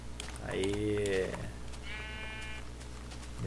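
Sheep in the video game Minecraft bleat twice, a longer wavering call followed by a shorter one, close and clear over a steady low background hum.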